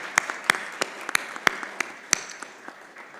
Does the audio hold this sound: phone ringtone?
no